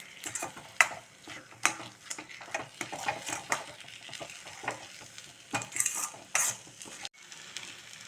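Pirandai (veldt grape) sautéing in oil in a pan, a soft continuous sizzle broken by repeated clicks and scrapes of a spoon stirring against the pan, close and uneven, with no voices.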